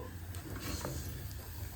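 Mustard seeds, cumin, chana dal and urad dal tempering in hot oil for a masala dosa curry, giving a soft, steady sizzle with faint hissing throughout, quiet and close with no talking.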